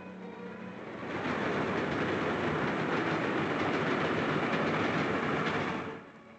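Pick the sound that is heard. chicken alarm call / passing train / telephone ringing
passing train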